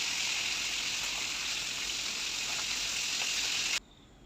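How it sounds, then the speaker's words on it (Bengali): Steady broadband hiss of rohu fish frying in hot oil, close and continuous, with faint crackles, cutting off abruptly just before the end. "এই যে হালকা করে ভেজে নিচ্ছি"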